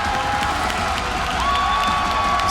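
A live esports crowd at an Apex Legends Global Series playoff event in London cheers and applauds steadily, a dense roar of voices and clapping that fills the whole moment.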